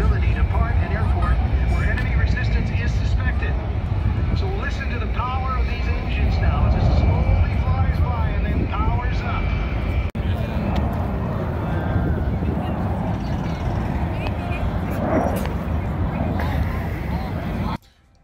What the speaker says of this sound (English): The C-17 was demonstrating its short distance landing.